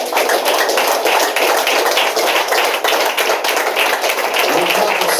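A church congregation applauds, dense sustained clapping from many hands filling the room for several seconds.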